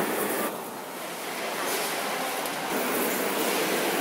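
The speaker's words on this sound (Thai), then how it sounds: "รถไฟขบวนที่ 208ได้เดินทางมาส่งผู้โดยสาร ที่สถานีรถไฟกรุงเทพหรือหัวลำโพง" Train No. 208 arriving at Hua Lamphong station in Bangkok, a steady broad rumbling roar with a slight dip and swell, heard alone without talk.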